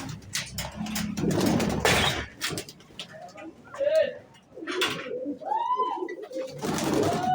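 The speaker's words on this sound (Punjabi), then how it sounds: "ਬਾਕੀ ਆਪਣੇ ਸਾਰੇ ਦੇਸੀ ਕਬੂਤਰ" Domestic pigeons coo in low, rounded bursts close by, mixed with a person talking and some clattering in the first seconds.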